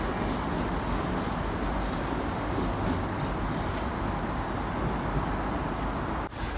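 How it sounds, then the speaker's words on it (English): A train passes a bridge near the derelict Bastion 5 at Hilsea Lines, Portsmouth, giving a continuous, loud, broad rumble and roar that holds steady throughout before briefly cutting off at the end. "I caught one train from the bridge"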